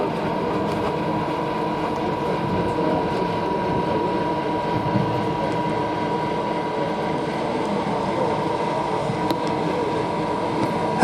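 A Bücker Jungmann biplane lands at the Duxford air show, its engine a continuous, even droning hum that holds steady throughout, with no voices.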